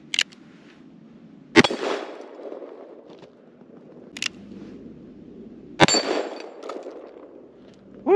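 Four sharp, loud reports from a 1963 three-screw Ruger Super Blackhawk .44 Magnum revolver, spaced a few seconds apart, each a hard crack followed by a brief ringing tail over a low steady background.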